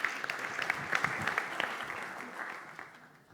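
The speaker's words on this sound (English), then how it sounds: "give him a big round of applause" Applause from a seminar audience at an annual marine energy conference session, a dense wash of clapping that starts strong and slowly thins and fades over a few seconds, with no talking over it.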